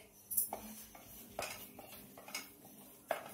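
A spoon scrapes and clinks against a kadhai while besan flour is roasted over low heat, giving a few sharp metallic taps and scrapes at irregular intervals, fairly close but quiet, with no talking.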